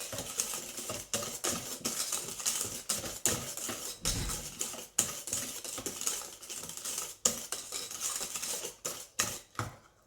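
Tart batter being stirred after flour is added gives rapid, irregular scraping and tapping strokes against a bowl, close and fairly quiet, with brief pauses between bursts.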